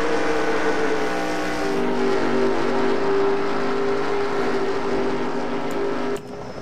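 Race cars in NASCAR Racing 2003 at Iowa Speedway, a steady pack of engines droning and humming loudly at high speed, with one engine note holding a sustained pitch before the sound drops slightly near the end.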